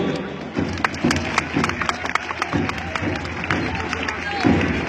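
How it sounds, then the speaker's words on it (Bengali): A crowd at a school parade at BIAM Model School & College, Bogura, claps in a steady rhythmic patter of applause, with loud amplified commentary from an announcer running over it throughout. "এবং এখন জোরে করতালি হবে"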